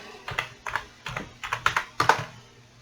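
Close computer keyboard typing, a handful of distinct keystrokes tapped at a slow, uneven pace with short pauses, no voices over it.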